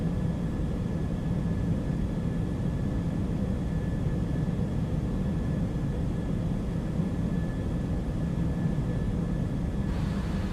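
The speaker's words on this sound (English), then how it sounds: "I'm gonna hear those CFMs spooling up nicely." CFM jet engines on an easyJet Airbus A319 in the X-Plane 12 flight simulator, giving a steady, broad engine roar with a thin whining tone above it that holds without pause.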